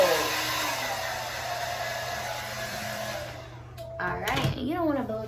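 A hair dryer on its hot setting blows steadily over wig glue, then cuts off as a voice starts talking near the end.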